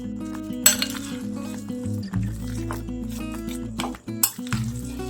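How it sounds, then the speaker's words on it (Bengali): Marinated chicken squished and mixed by hand in a bowl, with wet squelches and a few sharp clinks against the bowl's side, steady and close with no talking. "খুব ভালো করে মেখে নেব।"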